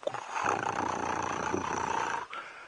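A herd of elephants gives off a deep, sustained rumbling roar on a sunset safari drive in the wild. It is steady and moderately loud for a couple of seconds before it cuts off.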